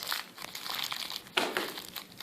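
Shiny advertisement paper crumpled by hand for a mask core: close, crisp crinkling and crunching in irregular bursts with one sharper crackle, no talk.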